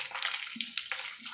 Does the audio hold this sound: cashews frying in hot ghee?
yes